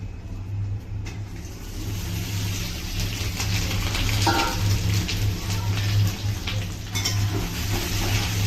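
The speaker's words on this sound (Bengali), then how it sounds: "আমি আলুটা আগে একটু ভেজে নেব।" Potatoes frying in oil in a kadai for Bengali aloo dum, a steady broadband sizzle with a low hum underneath and a few faint utensil clinks, continuous and fairly near throughout.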